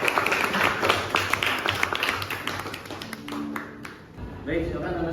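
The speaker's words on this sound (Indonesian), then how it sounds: "tepuk tangan untuk Malika" Students in a classroom give a brief round of clapping that fades out after a few seconds, followed by a teacher speaking.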